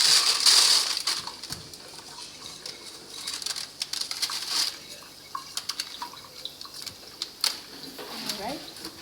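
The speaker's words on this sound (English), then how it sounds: "Then I'm going to put the rice in here." Dry rice pours into a pot in a brief rushing, rattling stream, followed by scattered light clicks and taps as the grains settle, close by and fairly loud.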